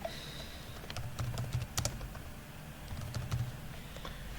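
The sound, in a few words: typing on a computer keyboard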